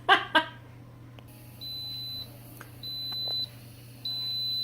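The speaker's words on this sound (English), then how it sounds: "Okay, so it's beeping" An Instant Pot pressure cooker timer gives three long, evenly spaced electronic beeps in a kitchen, clear and moderately loud, after a couple of short knocks at the start.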